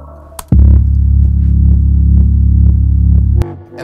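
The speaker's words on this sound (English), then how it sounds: "I started off with a bass line, and it sounds something like this by itself." A fat, deep synthesizer bass line plays alone in a studio, a loud sustained low throbbing tone with subtle rhythmic pulses, entering after a short click and ending abruptly near the end.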